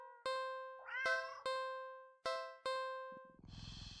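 A cat meows once in the video game Do Not Take This Cat Home, set among several clear chiming electronic dings that ring out and decay, quiet and clean, followed by a soft buzzy tone at the end.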